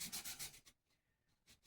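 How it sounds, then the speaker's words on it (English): Sanding a factory-cut guitar nut for a Les Paul Jr to fit the guitar: several quick rhythmic rubbing strokes up close, then a brief pause before a couple more strokes. "So I've taken to sanding the nut instead of the shim"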